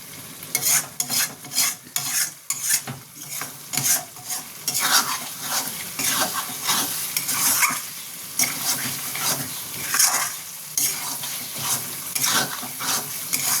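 Mutton bhuna is stir-fried in a pan, with a loud, continuous sizzle broken up by repeated scraping strokes of a spatula against the pan, close up and with no talking.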